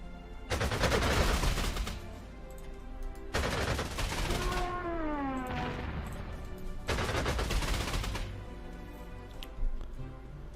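Unit attack gunfire in the World War II strategy game Panzer Corps 2: three long, dense bursts of rapid machine-gun and rifle fire, loud and close, with a wavering whine between bursts.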